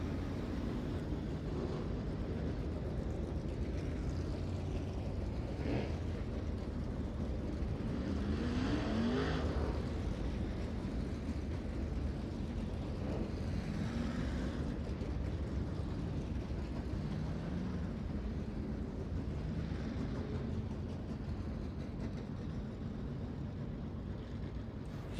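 Dirt track race cars at Volusia Speedway Park roaring around the oval, a continuous engine drone that swells and fades as cars pass, steady and moderately distant throughout.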